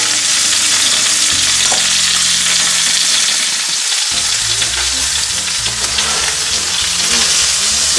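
A ribeye steak sears in a hot cast iron pan with a loud, continuous sizzle and crackle, over a low tonal backdrop.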